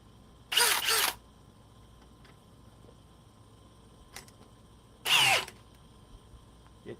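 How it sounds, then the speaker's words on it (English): Two short bursts of a high-pitched whirring from a fourth-generation Milwaukee cordless hammer drill, each about half a second, separated by quiet with a faint click in between. "4th generation hammer drill from Milwaukee."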